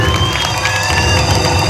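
A loud crowd at a 2019 Christian convention in Bindhanpali, Odisha, cheers and applauds for Jesus in a dense, continuous roar of voices and clapping.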